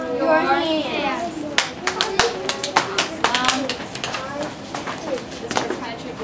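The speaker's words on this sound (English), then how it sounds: "Clap your hands." First-grade children in a small reading group clapping their hands, a run of sharp, irregular claps close by after a voice, with soft voices continuing underneath.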